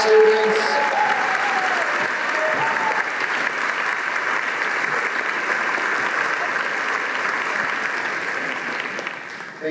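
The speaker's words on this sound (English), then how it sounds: "please give a round of applause to our awesome musicians," A school audience at a class day ceremony applauds its orchestra students in a steady, dense wash of clapping that holds evenly for about ten seconds, broad and continuous with a faint crowd murmur beneath.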